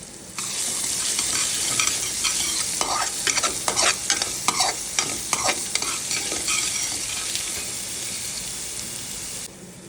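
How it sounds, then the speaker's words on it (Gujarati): Garlic, then ginger-garlic paste, stirred and sizzling in a pan for dal tadka, a steady close frying hiss with scraping spoon strokes throughout and no voices. "લસણ સારી રીતે સાંતળાઈ જાય એટલે તેમાં 1 મોટી ચમચી આદુ લસણની પેસ્ટ નાખીને બ્રાઉન કલર થાય ત્યાં સુધી સાંતળીશું"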